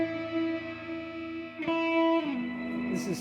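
An electric guitar sustains rich harmonic tones with reverb, shifting pitch partway through and giving a washy, lingering tail, played alone and close.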